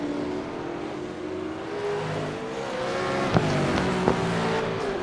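V8 Supercars race at Bathurst, with a car rounding a distant corner. Engine drone rises and falls steadily, moderately far off, and two brief sharp knocks stand out near the end. No voices.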